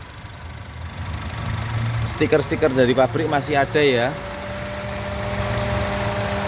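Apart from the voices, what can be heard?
Honda Brio car engine idling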